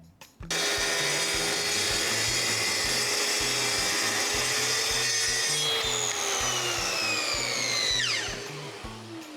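A track saw cuts through wood for a night stand bookshelf, its motor whining loud and steady at close range for several seconds with rhythmic rasping, then spinning down with a falling pitch near the end; no talking.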